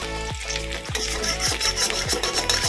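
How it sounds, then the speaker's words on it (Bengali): Capsicum fries in a hot pan at home, a steady sizzle broken by rhythmic scraping stirs about every half second, close and without voices. "ক্যাপসিকাম ভাজা বসিয়েছি"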